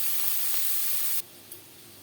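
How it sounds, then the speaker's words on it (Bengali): Chopped onions lightly frying in a pan, a loud steady hiss of sizzling oil that suddenly drops to a quieter sizzle partway through, no talking. "পেঁয়াজ আমি হালকা করে ভেজে নেব।"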